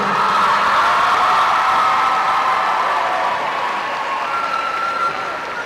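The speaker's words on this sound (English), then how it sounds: "Ladies and gentlemen, one final time, a nice round of applause for Rogers High School and Feinstein" Gymnasium crowd applauding the teams after a high school boys basketball division final, a broad sustained clapping that stays strong then gradually tapers, with a faint tonal hum running beneath it.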